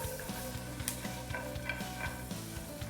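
Chopped onion, ginger and garlic sauté in a pan on high heat, a soft, steady sizzle with light stirring scrapes and a faint regular mechanical ticking beneath.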